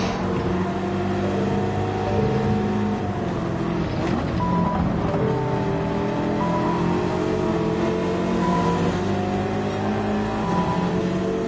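A Honda NSX engine in the racing game Gran Turismo 7 drones steadily throughout, with its pitch rising and falling as the car revs through gears, loud and continuous with no talk.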